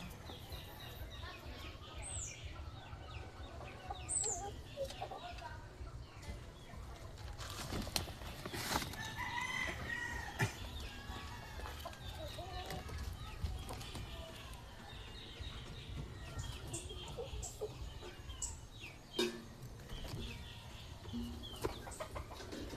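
A bulik gamefowl rooster in a backyard farm, clucking and calling, with a few faint higher cries among steady outdoor background noise and occasional quiet voices.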